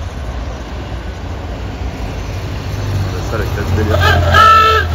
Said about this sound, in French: Ah, le klaxon, trop fort.